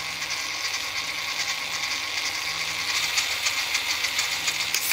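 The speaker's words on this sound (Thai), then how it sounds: "ติดตั้งเกียร์เรียบร้อยเดี๋ยวลองเทส อันนี้เกียร์ช้าสโลนะครับ" A WPL C24-1 RC truck with a newly swapped gearbox and steel center shaft runs on its slow gear, giving off a steady, high whirring gear whine close by.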